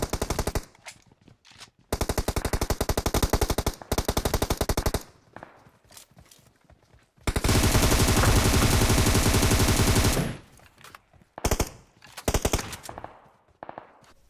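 Rapid automatic gunfire in PUBG Mobile, loud, close bursts of machine-gun fire repeating in several rounds, with one long sustained volley in the middle and shorter bursts after, no talking.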